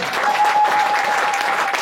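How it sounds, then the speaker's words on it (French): A church congregation claps in a steady, dense burst of applause that fills the whole short moment at close range. "On donne une acclamation au Seigneur."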